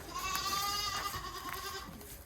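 Alpine dairy goats brought from Europe, kept at home in Kyzylorda, bleating in a sustained wavering cry under a steady, faint farmyard background with no talking.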